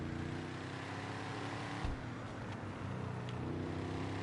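Car engine and exhaust in the video game GTA Online, a steady loud drone with low harmonic bands and a brief thump near the middle, running continuously without talk.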